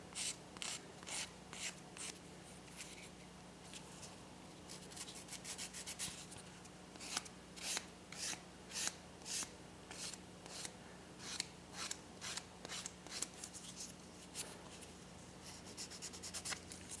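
Soft plastic cut from a for-sale sign is sanded by hand in a run of rhythmic, raspy scrubbing strokes, close and fairly quiet, with a faint steady hum underneath.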